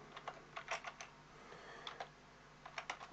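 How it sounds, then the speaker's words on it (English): Typing on a computer keyboard while building a flowchart in Microsoft Visio, with quiet, close key clicks in short irregular bursts and pauses between them. "Now, if I just type on there,"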